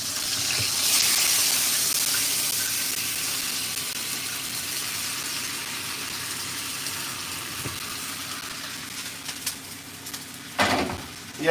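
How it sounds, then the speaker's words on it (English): Water runs from a tap into a container in a steady, close, broadband rush that fills the whole stretch, with a couple of brief clunks near the end. "I gotta put some water in this."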